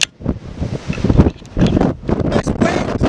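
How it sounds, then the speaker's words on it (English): Strong gale-force wind gusts outdoors during open-air oil painting, loud and buffeting the microphone in surging waves, with a voice briefly audible under the roar. "This wind is absolutely insane."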